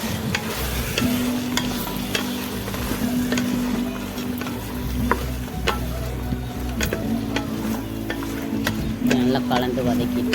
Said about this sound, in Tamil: நல்லா கலந்து வதக்கிட்டு